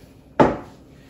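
A single sharp metallic clunk as a saucepan holding rum is set down, ringing briefly before fading into quiet.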